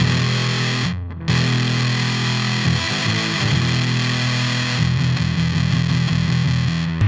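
A 1973 Fender Telecaster Deluxe played into a 776 Champ amp with a reissue Big Muff fuzz: dense, heavily distorted chords ringing loud and close, with a brief dropout early on and shifting voicings, no voices.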